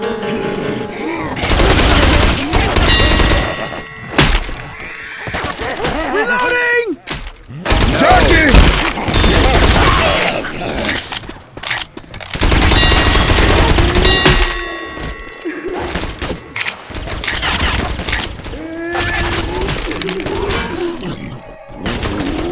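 Bursts of machine gun fire in Left 4 Dead 2 on a modded Realism Expert Dead Center server come in loud, dense volleys broken by brief pauses, with thuds and shattering mixed in and a player's voice talking over parts of it.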